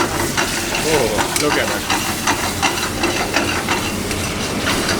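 Pizza sauce being sautéed in a pan in a restaurant-style thin crust pizza recipe, a steady close sizzle and hiss with stirring scrapes, while people talk briefly over it.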